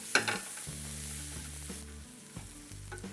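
Chopped green chillies and half an onion sizzle steadily in a hot pan as they fry, a close, continuous crackle with no talking over it.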